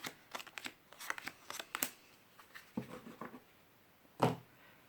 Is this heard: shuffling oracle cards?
yes